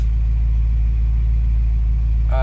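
Idling engine of a 1986 Oldsmobile Cutlass 442 with a rebuilt Quadrajet carburetor, a steady, loud, smooth low rumble that holds even throughout with no talking.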